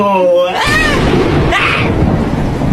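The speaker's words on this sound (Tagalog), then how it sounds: "Ano ba namang ulan yan?" Heavy rain pours down as a loud thunderclap bursts in and rumbles on, following a brief moment of voice at the start.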